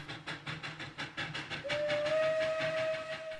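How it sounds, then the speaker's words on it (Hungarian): A very old steam train chugs along in a steady rhythmic beat while its whistle sounds a long sustained tone midway through, moderately loud and with no voices. "Most egy nagyon régi vonat hangját fogjuk meghallgatni."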